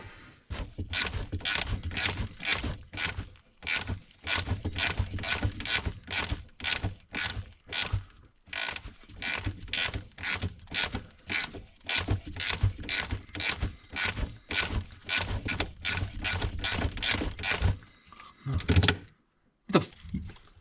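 A hand ratchet clicks in long, steady runs of rapid strokes while undoing bolts on a Bobcat 751 skid-steer, with a few brief pauses between runs and a short gap near the end.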